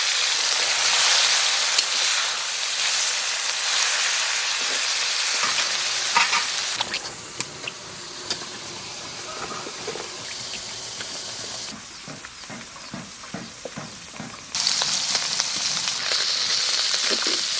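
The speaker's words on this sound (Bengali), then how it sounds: "তেল গরম হয়ে গেছে এখন মাছ দেব" Small fish fry in hot oil with a loud, steady sizzle, which dips and shifts as they are stirred and turned in the pan, then swells again.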